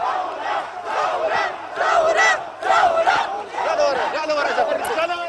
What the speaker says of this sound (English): He was met with large crowds of people shouting "revolution,"